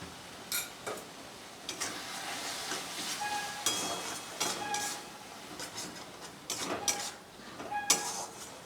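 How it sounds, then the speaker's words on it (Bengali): Kashmiri mixed spice masala stir-fried in oil in a pan with splashes of water, heard as a faint sizzle under repeated clinks and scrapes of a spatula against the metal. "তেল ছাড়া অবধি আমি মশলাটাকে ভালো করে কষাবো"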